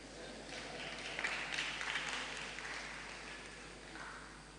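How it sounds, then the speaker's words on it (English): Sparse, scattered clapping from a few audience members at a talk, thin and uneven, swelling slightly in the middle before trailing off, heard alone without speech. "Only a few clapped."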